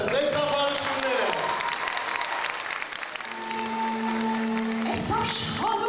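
Audience applause at a folk song concert in Alaverdi rises and fades beneath an announcer's voice introducing the singer, with a singer's voice and music entering near the end.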